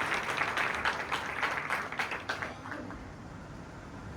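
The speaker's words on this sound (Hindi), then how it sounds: "एक बार जोरदार ताली बजाएंगे।" A seated audience at a spiritual talk breaks into hearty clapping as the main speaker reaches the stage. The applause is brisk and dense for about two and a half seconds, then tapers into a quieter room murmur.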